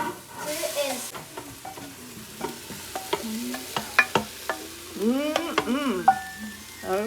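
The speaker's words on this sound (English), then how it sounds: "We're putting the meat in the Instant Pot" Venison meat being stirred in an Instant Pot, with a steady sizzle beneath, while children's and adults' voices chatter and call out over it.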